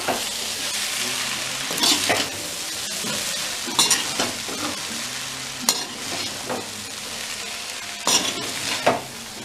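Rice and vegetables for veg pulao are stirred in a hot frying pan, a steady sizzle broken by repeated scraping and clinking of the spoon against the pan, close and clear.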